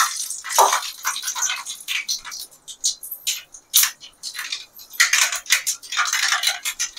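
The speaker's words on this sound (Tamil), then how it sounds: "வச்சு கடுகு போட்டுக்கலாம்." Mustard seeds crackle and pop in hot oil for a Tamil-style tempering: a loud, dense scatter of sharp spluttering bursts that swell and fade in uneven waves, with no voice.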